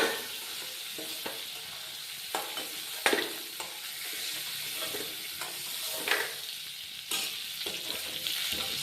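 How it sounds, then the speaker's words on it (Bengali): Crab sizzles and crackles frying in hot oil, with occasional stirring scrapes and louder pops along the way. "কাঁকড়া ভাজা হয়ে যাচ্ছে, এবারে নামিয়ে নেব।"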